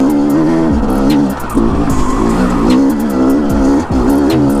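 A Yamaha YZ250 two-stroke dirt bike engine lugs in second gear on an enduro trail at Taylor Park, a loud, close, continuous engine drone with brief dips in pitch and power, and no talk over it.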